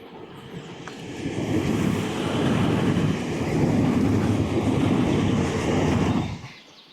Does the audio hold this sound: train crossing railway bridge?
yes